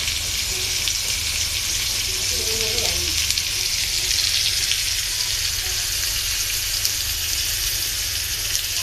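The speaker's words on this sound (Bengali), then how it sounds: "এখানে আলুগুলো ভাজতেছি।" Potatoes fry in a pan of hot oil for a home-style curry, a loud continuous hiss and crackle that runs unbroken close up, with no one talking over it.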